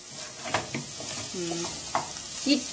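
Onions softening over low heat in a pan for a mung bean stew, giving a soft, close sizzle with occasional stirring scrapes and light clinks; no speech is heard.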